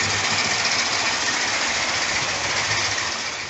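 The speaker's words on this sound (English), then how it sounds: "epic blast watching its locomotive going around the layout" A Hornby Black 5 model locomotive hauling a West Coast Railways Pullman set runs around the layout with a steady, even motor whir and wheel rumble, continuous and close, with no talk.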